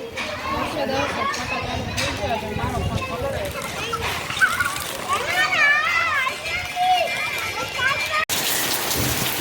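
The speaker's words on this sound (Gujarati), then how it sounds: "વરસાદ ધીમો ધીમો ઝરમો ચાલુ થઈ ગયો હતો" Light summer drizzle patters steadily on a surface throughout while people talk and call out nearby.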